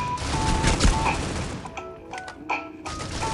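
AK rifle gunfire in the mobile shooter Critical Ops: a rapid, loud burst of cracking shots up close, followed by a few scattered later shots and impacts amid game noise.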